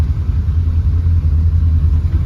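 An old, mud-splattered car drives along with a steady low engine rumble and road noise, close and fairly loud throughout, with no talking.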